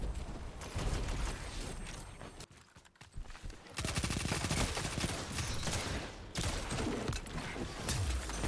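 Rapid, dense gunfire in the Destiny 2 video game, with a Dead Messenger weapon in play: loud, continuous volleys that dip briefly around the third second and then resume unbroken.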